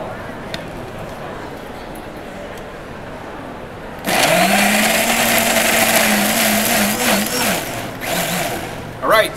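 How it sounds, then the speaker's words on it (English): A blender purees Roma tomatoes for a kale-chip sauce base, kicking on abruptly after a few quiet seconds into a loud, steady whirring drone that wavers slightly in pitch as it churns, before a short bump at the end. "So now we're going to simply blend these tomatoes up."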